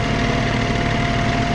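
A tractor engine idling steadily in the Farming Simulator video game while working a corn field, with a continuous droning hum and a low rumble that holds even and loud throughout, with no talking.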